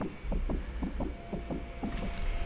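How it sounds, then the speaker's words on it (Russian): Racing heartbeat of the sniper in Sniper Elite 4, a fast, steady run of muffled low thumps in close succession over a faint background hum. "Опять у меня пульс зашкаливает"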